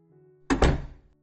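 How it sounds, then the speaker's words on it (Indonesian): A door slammed shut in a room, one heavy close thud with a short rattling double impact and a brief decaying rumble, loud against a faint background hum. "Suara bantingan pintu terdengar begitu nyaringnya"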